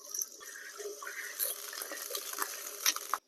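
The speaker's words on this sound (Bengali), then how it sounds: "আমি এখানে কড়াইয়ে আগে থেকে তেল গরম করে নিয়েছি। এবারে এরকম ছোট ছোট করে রাখা আলুগুলো ভেজে নেব।" Small potato pieces fry in hot oil in a wok, a faint, thin sizzle with light stirring clatter and a few sharper clinks, quiet and close, ending abruptly.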